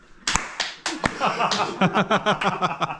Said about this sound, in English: If we clap at the same time?